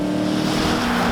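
A 2017 Dodge Challenger Hellcat's engine pulls hard under acceleration, a loud, dense, steady roar with a strong low drone held throughout, close up and with no talking over it.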